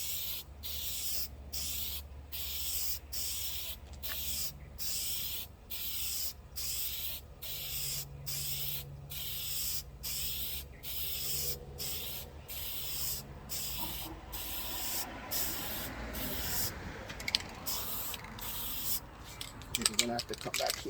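A spray gun applies primer paint onto a car panel in rhythmic bursts, hissing passes roughly once a second for most of the clip, followed by brief rustling and knocks at the end.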